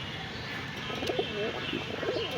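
Soft cooing from Pakistani dabla pigeons at a pigeon market in Khulna repeats in short bursts over a constant background hum, fairly faint and close by.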